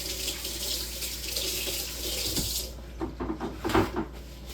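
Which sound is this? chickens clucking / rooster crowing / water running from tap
water running from tap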